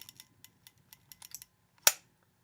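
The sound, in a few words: Zeiss Ikon Contaflex Super BC camera being cocked and shutter fired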